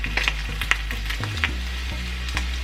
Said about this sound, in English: fry it for about 2 minutes on each side